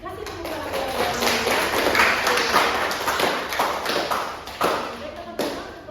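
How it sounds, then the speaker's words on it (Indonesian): Audience applause for a student during a maternity nursing lecture, a dense steady patter of many hands clapping for several seconds with some background voices mixed in. "Kasih tepuk tangan."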